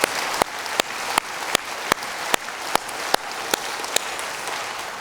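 Congregation in a church service applauding to encourage students, a steady wash of many hands clapping with sharp louder claps standing out at regular intervals.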